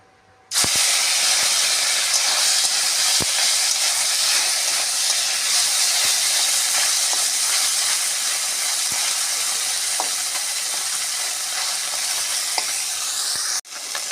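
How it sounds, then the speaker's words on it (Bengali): Small chuno fish fry in hot oil with a loud, dense, hissing sizzle that starts abruptly and runs unbroken, with occasional faint clicks, until a brief dip near the end. "তেল গরম হয়ে গেছে, মাছ ভেজে নেব"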